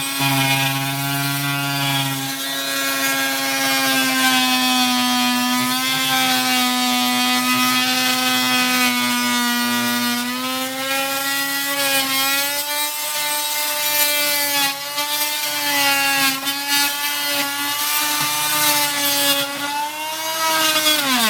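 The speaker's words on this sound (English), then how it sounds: "You want to be close to your wood when you start to cut it." A corded power saw cutting wood for a cabinet, running as a loud, steady motor whine with strong pitched harmonics that waver slightly as the blade bites in.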